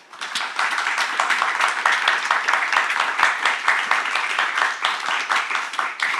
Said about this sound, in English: please can I get a huge round of applause for these three beautiful people.